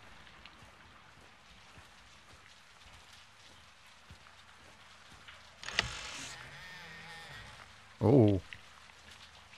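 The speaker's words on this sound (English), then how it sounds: "It's raining fucking hard." Heavy rain falls in the video game Call of Duty Modern Warfare 2 (2022) as a steady, dense hiss of drops on surfaces throughout, with a brief whoosh and a short loud vocal exclamation partway through.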